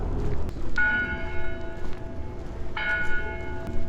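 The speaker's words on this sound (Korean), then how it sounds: "종소리 들리는 대로 가면 교회가 나오겠지 성당이나" A church bell in France strikes twice, clear and resonant with a long ringing decay, heard from a moderate distance over faint outdoor background.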